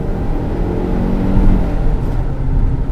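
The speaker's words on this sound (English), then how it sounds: "I just love the sound of that turbo" A Haval H6 with a turbocharged petrol engine pulls hard, its low droning engine note and road rumble swelling steadily from inside the cabin with no talking.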